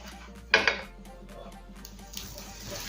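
A buttered bread slice flipped in a frying pan while making a chicken sandwich: a brief clatter of utensil against the pan, then a light sizzle and faint kitchen sounds.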